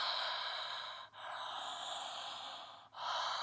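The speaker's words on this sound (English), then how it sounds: "Steady Ujjayi breathing." Steady Ujjayi breathing during a yoga flow, mouth closed and throat narrowed, gives a long, close, hissing ocean-like rush of air, broken by two brief pauses between slow inhales and exhales.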